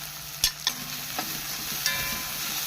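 Ginger, green chili and onion frying in coconut oil with mustard seeds, a close, steady sizzle broken by a few sharp pops and spoon clinks against the pan.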